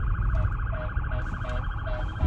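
Several emergency vehicle sirens wail continuously and loudly, layered together with steady rising and falling tones over a rumbling background, with no speech.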